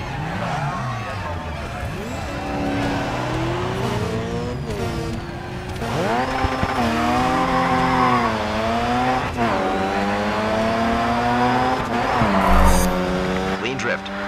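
A race car drifting in GRID 2 during a drift series event, its engine whining and rising in pitch with long tire squeals as it slides, steady and close, with a voice talking over it.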